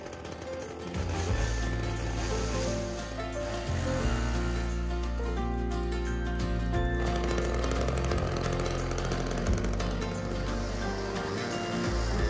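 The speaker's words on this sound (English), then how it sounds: "Ran out of string for that weed whacker," A string trimmer cuts through thick brush while clearing ground for sheep fencing, its engine droning loud and close with a steady whine that rises and shifts as it works, and no talk.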